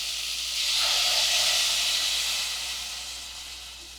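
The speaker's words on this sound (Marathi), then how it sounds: "आता याच्यामध्ये आपण पाणी घालूया" Water poured into a hot pan of ghee-fried cashews and sweet potato for soup, giving a broad steady steam hiss that swells and then slowly fades, close and alone.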